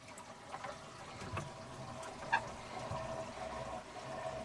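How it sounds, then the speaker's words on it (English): Sink water drains through a grey water pipe into a bucket beneath a bus, a faint, continuous trickling and gurgling with a few small clunks and splashes. "when I take this plug out, the water should drain freely down into that bucket underneath the bus"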